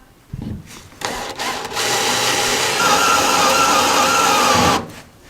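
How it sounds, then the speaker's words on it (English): A power drill starts with a few short bursts, then runs steadily and loudly for several seconds while biting into spot welds on a Nissan GT-R body before stopping. "Now we can start drilling into it."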